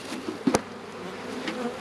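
Honey bees being shaken into a small mating nuc give a dense, close buzzing hum, swelling briefly in a short burst and then settling to a steady drone.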